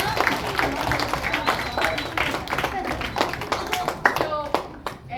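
An audience at a Boys and Girls Club event claps for teachers with uneven, sparse applause, separate hand claps standing out as it thins toward the end, with children's voices and talk mixed in.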